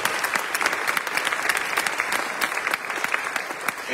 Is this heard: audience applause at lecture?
yes